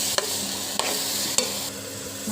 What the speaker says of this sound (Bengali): এখন চালটাকে এখন ভেজে নেব।